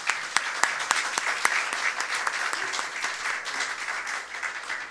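Steady applause from an audience at a Korean policy forum on walking and public health, a dense bed of clapping with a few sharp nearby claps standing out, no voices over it.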